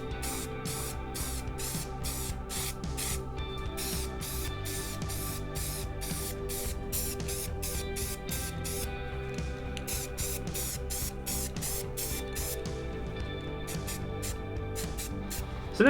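Rapid short bursts of aerosol spray from a can of gray Rust-Oleum paint being shot across a light switch outlet cover, a close hissing pattern of repeated pulses with brief gaps.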